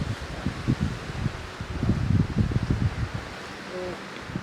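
Wind gusts across a microphone on a hiking trail in Golden Gate Canyon State Park, a close, rumbling buffet that swells and fades over a few seconds, with people talking briefly.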